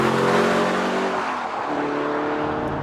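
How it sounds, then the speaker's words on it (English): A British Aston Martin DB9 Sport Pack with a V12 engine roars loudly and close, its pitch dropping then rising again with a brief tire squeal, with no talking. "And the Aston Martin DB9 Sport Pack. British, V12,"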